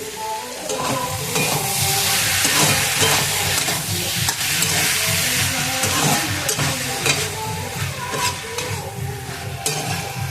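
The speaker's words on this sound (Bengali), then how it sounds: "এবারে মোচাটা দিয়ে দিচ্ছি।" Chopped banana flower is sautéed and stirred in a pan for a Bengali vegetarian mochar ghonto, with a continuous loud sizzle and frying hiss broken by scraping stirs and occasional clinks of the utensil against the pan.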